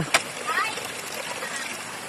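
Tap water runs and splashes into a basin as a young child washes plates at home in the province, a light continuous stream with a brief clatter near the start.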